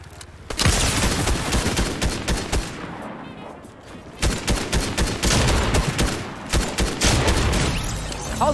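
Video game gunfire with rapid bursts and repeated shots, loud and close, broken by a brief lull before heavy firing resumes.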